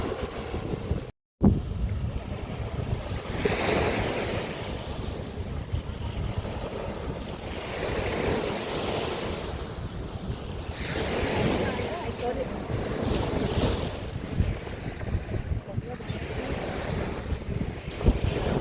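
Waves and strong wind at Jumeirah Beach in Dubai, a constant roar of surf and buffeting microphone wind noise with rhythmic swells, briefly cut by a short gap near the start.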